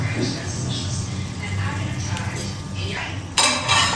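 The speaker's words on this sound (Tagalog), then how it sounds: "Then, halu-haluin mo." A spoon stirs chayote soup in a metal pot, giving soft scraping and light clinks, with a louder clatter near the end and a voice speaking over it.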